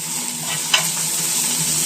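An egg fries in a pan with a continuous bright, hissing sizzle, steady and close, broken by one small tap.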